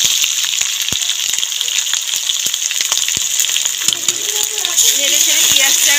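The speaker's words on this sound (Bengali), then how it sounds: "নেড়ে ছেড়ে পেঁয়াজটাকে ভেজে নেব।" Thick-sliced onions and dried red chillies split down the middle fry in hot oil for Bengali rice congee, a loud, steady, close sizzle with scattered crackles and pops running throughout.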